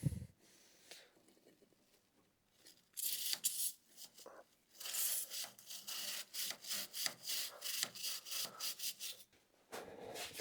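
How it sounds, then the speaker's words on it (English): Stiff brush scrubbing the chain of a John Deere snow thrower, repeated close rasping strokes in bursts with short pauses, loud and alone. "you'll just go through and just give your chain a really nice scrubbing"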